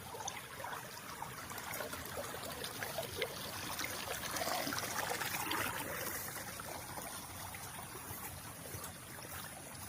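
Water trickles steadily in a shallow channel at a tilapia fishpond, a continuous soft splashing flow that swells slightly midway, heard alone without voices.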